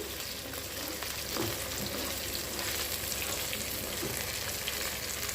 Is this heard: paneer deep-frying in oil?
yes